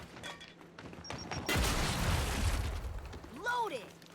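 Grenade exploding in the video game Gears 5: a sudden loud blast with a rumbling low-end tail after scattered game sounds, with a voice talking around it.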